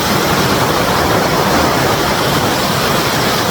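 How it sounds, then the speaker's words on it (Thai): Steady, loud broadband rush of a waterfall in Nakhon Nayok, Thailand, a constant roar filling the clip from start to finish with no pauses. "นี่ครับน้ำตกไหล"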